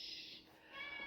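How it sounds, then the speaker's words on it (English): A pet cat gives two short, faint meows in quick succession, heard alone in a quiet room. "That's my cat"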